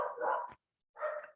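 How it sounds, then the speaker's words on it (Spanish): A dog barks twice, each bark short and fairly loud with a brief silent gap between them, and no voices over it. "El perro se enloquece porque pasa alguien o un gato."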